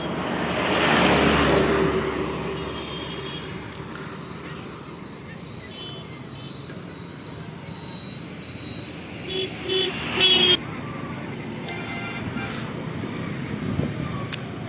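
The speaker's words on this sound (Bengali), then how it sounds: "এই ক্রসিংটা আমাকে পেরোতে হবে এটা হাই রোড এটা দিল্লি কলকাতা রোড" Traffic roars past on the Delhi–Kolkata highway at a crossing under dark clouds: a steady broad rumble with wind buffeting the microphone and a brief vehicle horn toot near the end.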